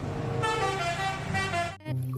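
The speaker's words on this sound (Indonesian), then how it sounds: "Wadidaw, ada bus telolet." A bus telolet horn on a red toy bus sounds a sustained melodic multi-tone honk, loud and close, then cuts off briefly before a lower tone resumes.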